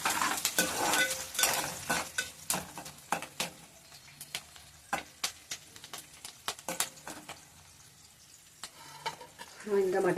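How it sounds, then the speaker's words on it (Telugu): Mutton curry is stirred and fried in oil in a pan, with irregular scraping strokes and spoon clatters over a soft sizzle, fairly close, and a little background voice near the end. "నాన్ వెజ్ కర్రీ నేను వేసేసాను"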